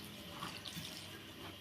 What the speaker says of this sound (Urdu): جی اب ہم اس میں پانی ڈال کے مکس کریں گے